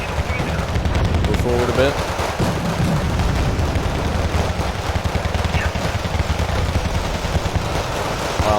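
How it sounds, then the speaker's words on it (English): Artillery and rapid gunfire in the war game Wargame: Red Dragon, with dense rumbling bursts and booms rolling on continuously and loud, while someone speaks briefly over the barrage. "Oh, that's a lot. Artillery."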